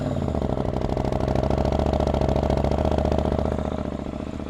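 A 2023 KTM 890 SMT motorcycle engine runs steadily up close, its rapid pulsing thrum holding a constant pitch and easing slightly at the end.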